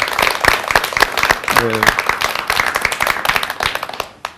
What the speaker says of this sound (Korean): 그럼 박수 한번 합시다, 우리.